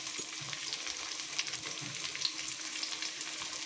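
Mackerel coated in rava fries on a tava over a low flame, giving a steady close sizzle with small crackling pops throughout and no talk.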